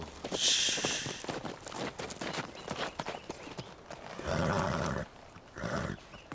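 A mare neighs loudly in a shrill, high whinny, then hooves clop in a rapid, uneven rhythm nearby, with further snorting and breathy neighs as the horse moves about, no one talking.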